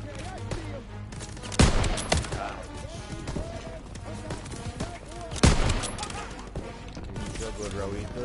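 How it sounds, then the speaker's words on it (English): Automatic machine gun fire from Call of Duty: WWII gameplay, with two loud sharp bursts standing out over a constant din of battle noise, shouted voices and music throughout. "Can't advance with those MGs firing on our position!"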